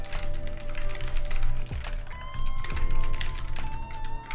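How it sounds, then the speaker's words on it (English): Steady typing on a computer keyboard during a SwiftUI macOS coding session: dense, close clicking keystrokes in an irregular rhythm with a few heavier thumps, running continuously over a low background hum. "let me know if the typing's too loud"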